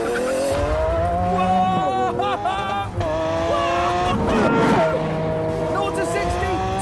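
A Lamborghini Aventador engine roars under hard acceleration, its loud tone climbing and dropping through gear changes, heard from inside the car with a voice talking over it.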